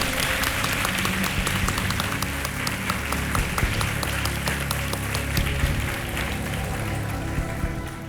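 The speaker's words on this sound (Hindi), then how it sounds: "तालियां बज जाए" Studio audience on an Indian TV quiz show breaks into applause, a steady, dense wash of clapping that holds throughout at moderate level with no talk over it.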